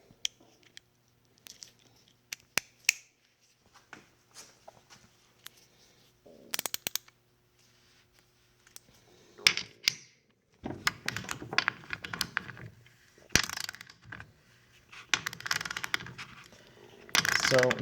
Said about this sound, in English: I also have 14mm socket ready to go for each one of these ratchets, just so you can hear the teeth at play.